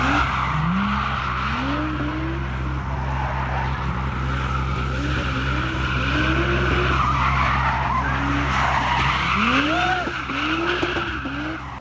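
A Toyota JZX100 drifting in a residential driveway, loud repeated tire squeals sweeping up and down over a constant engine roar, several skids in a row, close by.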